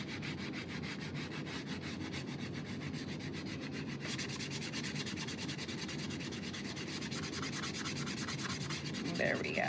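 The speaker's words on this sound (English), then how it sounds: "when you sand wet paint, it just like makes a mess" Sanding over wet paint gives a steady, close, rhythmic rubbing rasp, quick back-and-forth strokes that run unbroken for several seconds with no talk.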